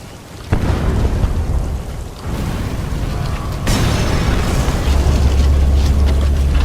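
A C4 charge detonates and destroys a separator tank in Metal Gear Solid V, a loud sudden blast followed by sustained heavy rumbling and roaring debris with no voices.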